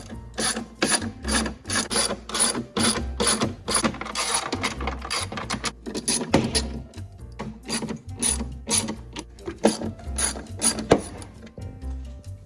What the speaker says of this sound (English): now we're going to remove all these little bolts and nuts right here that are holding this attached to the back firewall.